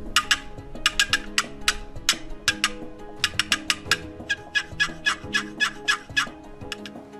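A wooden turkey hunting box call is worked to imitate a rolling, cackling gobbler, with rapid, bright, scratchy yelps arriving in quick bursts and rolls, close and loud with no talking.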